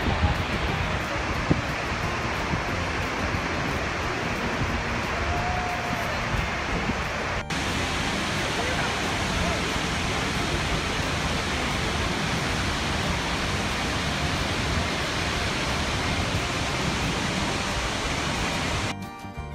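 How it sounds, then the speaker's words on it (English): A waterfall of separated streams of falling water gives a loud, steady, broadband roar that runs unbroken and close for the whole stretch, with no voices over it. "Separated pieces of falling water, and I have some actual footage right here."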